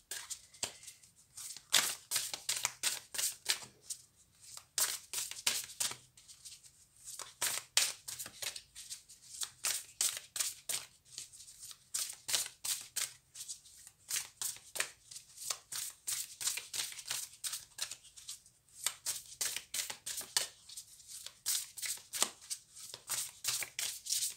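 Tarot cards are shuffled by hand in steady repeated bursts of riffling and flicking, close and fairly quiet, with short pauses between runs and no talking.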